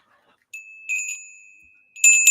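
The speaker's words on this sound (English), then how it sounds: "There's your Pavlovian bell that I'm doing every day." A hand bell rung as a daily Pavlovian signal, giving a couple of bright, sustained rings separated by a short pause, loud and close with no talking over it.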